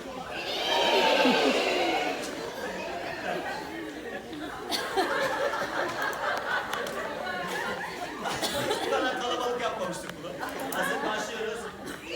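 A horse whinnies loudly at the start, followed by more neighing mixed with a crowd chattering and laughing nearby.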